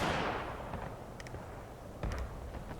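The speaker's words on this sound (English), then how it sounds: "Oh, they're actually shooting at me, so maybe we should shoot back." Gunfire in the game War of Rights: a heavy, booming shot at the start with a long rolling decay, then a couple of faint, distant reports and another dull thud near the end, with no talk over them.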